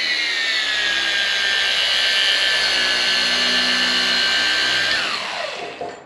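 A FLEX PXE80 cordless polisher runs on speed 3 with a steady, close, high-pitched motor whine that holds level, then winds down as the motor switches off.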